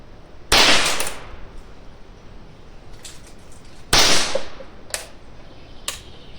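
A Mauser 1911 .22 LR pistol fires two sharp, loud shots about three seconds apart outdoors, each followed by a short decay, with fainter metallic clicks and handling noises in between.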